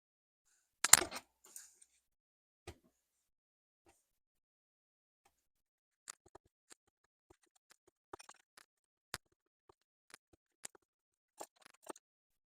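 Leather being trimmed for a cardholder wallet before gluing: sparse, quiet snips and small clicks of a cutting tool, one louder rustling burst near the start, then scattered light ticks spread across a mostly silent stretch.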